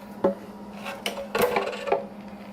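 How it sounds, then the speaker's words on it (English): A valve cover is worked loose from a Nissan L28 engine in a Z car: a few short scraping, rubbing metallic clunks over about two seconds, close and moderately loud against a faint steady hum. "Now let's take this valve cover off."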